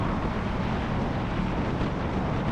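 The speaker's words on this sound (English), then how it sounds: "The wind is pushing me!" Heavy, continuous wind buffeting roars into the microphone while riding a motorcycle, a dense low rumble with no voices, steady and close throughout.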